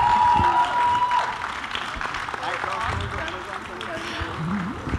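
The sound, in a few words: audience applause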